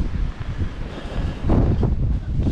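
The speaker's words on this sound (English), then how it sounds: "It is windy." Wind blows during a snowmobiling trip in Michigan, a steady rough buffeting roar against the microphone with gusts swelling after the midpoint, with no voices.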